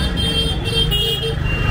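Vehicle horns sound over the steady traffic noise of a busy East Delhi market street in Laxmi Nagar, with sustained honking tones over a low engine rumble.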